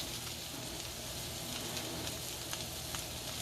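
Butter sizzles steadily in a hot pan of caramelizing red cabbage for Thanksgiving, a dense, continuous frying hiss with small pops throughout and no talking.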